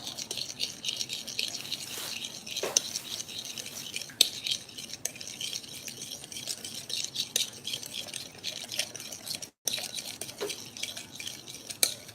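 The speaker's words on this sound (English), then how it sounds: "Just gonna stir this up" A dough hook stirs a batter or cream mixture in a bowl, giving a steady, quiet rattling and scraping with brief metallic clinks, close and alone with no voices.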